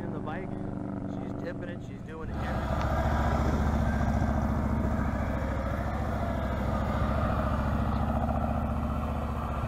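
Motorcycle engine held just above idle during slow turning practice, a low steady hum that grows louder after the first couple of seconds and then holds on without pause.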